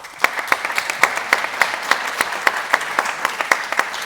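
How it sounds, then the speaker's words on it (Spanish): Audience applause at the inaugural round-table panel on science communication, a steady patter of many hands clapping close and loud, running on without any voices over it. "Un fuerte aplauso entonces para Carmen."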